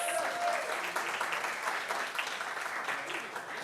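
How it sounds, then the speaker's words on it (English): An audience applauds panel speakers at a women's empowerment event, with loud, continuous clapping and cheering that holds steady throughout. "Can we give Gigi's and Tamika a round of applause?"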